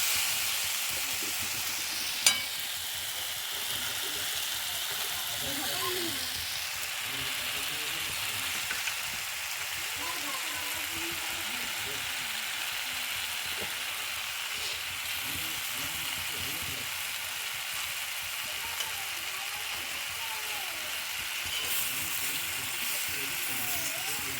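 A vegetarian mix of cauliflower, potato, carrot and beetroot sizzles and fries in a pan while being stirred, a continuous hiss with scraping stir strokes and a voice faintly speaking now and then.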